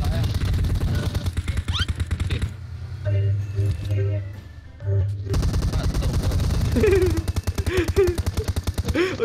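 Rapid automatic gunfire from a close-range weapon in the PUBG battle-royale video game, loud sustained bursts at the start and again for the last few seconds, with someone talking over the shooting.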